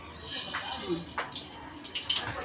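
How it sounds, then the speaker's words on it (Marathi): Mustard seeds drop into a hot pan of oil while poha is cooked, giving a soft, steady sizzle with scattered small crackles and pops at moderate distance. "आता मी मोहरी टाकत आहे."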